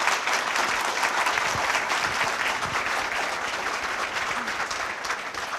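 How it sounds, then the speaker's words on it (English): A large audience claps loudly and evenly at a university honorary doctorate award ceremony, with continuous, dense applause lasting the whole stretch and barely tapering at the end. "I would like to ask everybody here to offer a very loud applause"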